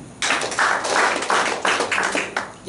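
A church congregation clapping during a Pentecostal service in Klampis, several short bursts of group applause in a loose rhythm, close and fairly loud, with no talking.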